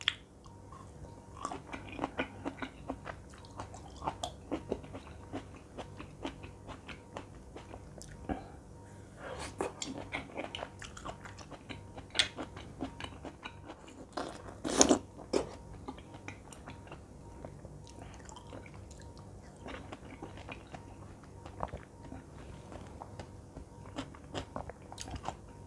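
Chocolate-coated cherry tomatoes are bitten and chewed close to the microphone, giving soft repeated crunches and wet mouth sounds with scattered faint clicks and one sharper crunch midway, ASMR style.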